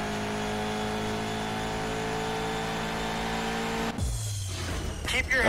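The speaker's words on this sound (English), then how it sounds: "But I kind of went half throttle when I launched it this time around." A Bugatti Veyron drag car in Shift 2 Unleashed holds a steady high engine whine, then launches with a sudden drop and deep surge of revving, loud and close.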